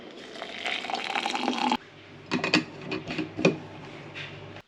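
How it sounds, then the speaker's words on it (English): Water poured and splashed while coffee is being prepared, with a steady liquid rush that cuts off abruptly, followed by a few short splashes and drips close by. "I am now preparing my coffee"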